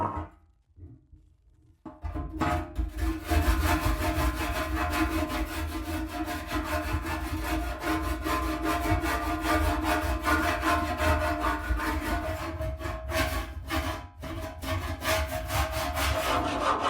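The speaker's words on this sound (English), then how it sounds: "I'll just get a little scraper on here." A hand scraper drags across the rusty metal of an old Range Rover, giving a continuous rough grating scrape that runs steadily for about fifteen seconds after a brief quiet start, close and loud, with no talking.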